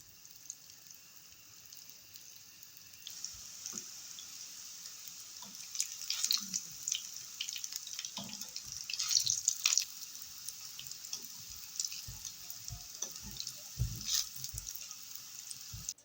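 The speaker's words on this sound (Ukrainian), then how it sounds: "Смажимо їх на середньому вогні до золотистої кірочки." Meatless cutlets fry in sunflower oil in a pan over medium heat, giving a quiet continuous sizzle with scattered crackles and pops that grows busier after a few seconds.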